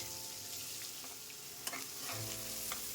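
Finely chopped onion frying and being stirred in hot oil with panch phoron spices for a fish pickle curry, a steady close sizzle with light scraping of the spoon, heard alone without talk.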